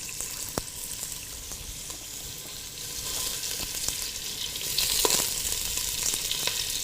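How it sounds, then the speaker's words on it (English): Ginger slices and rough chunks of spring onion crisp in oil, a broad steady hiss that grows slightly louder toward the end, with occasional faint ticks and pops and no voices. "You want enough oil in there to crisp up the slices of ginger."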